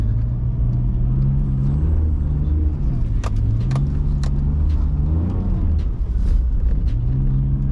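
Close, steady engine drone of a BMW E46 320i sliding on a snowy winter street at night; the revs swell and dip as the car drifts, with a few light clicks inside the cabin.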